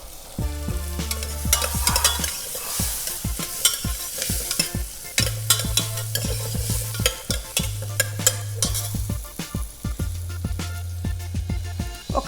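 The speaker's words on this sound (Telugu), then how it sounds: "ఇప్పుడు ఈ ఉల్లిపాయ పచ్చిమిరపకాయ వేసేస్తున్నాను. ఇది గోల్డెన్ బ్రౌన్ వరకు వచ్చే వరకు వేయించుకోవాలి ఈ ఉల్లిపాయని" Chopped onions and green chillies fry in a pan while a spoon stirs them, bringing repeated sharp scraping clicks over a steady sizzle, with low tonal hums coming and going in the background.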